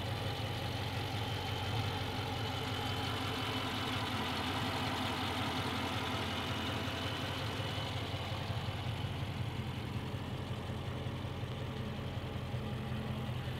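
A 2017 Dodge Charger Daytona 392 with a 6.4-liter V8 idles steadily with a low, even rumble that holds constant throughout, close and without voices.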